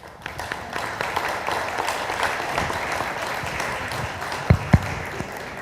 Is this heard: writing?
no